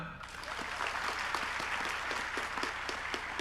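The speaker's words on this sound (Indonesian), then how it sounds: "tepuk tangan semua" An audience clapping hands during a student orientation session on national insight, a dense, even patter of applause that stays steady for a few seconds over a low hum.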